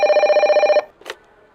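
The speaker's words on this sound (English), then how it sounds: "the phone rings again" One loud, rapidly trilling telephone ring sounds close by and then stops abruptly, followed by a brief soft clatter as the receiver is picked up.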